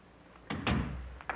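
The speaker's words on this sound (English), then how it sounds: "Close that door." A door thuds shut with a solid, muffled knock, followed by a short rattle as it settles and a smaller knock just after, in a quiet room with no talking.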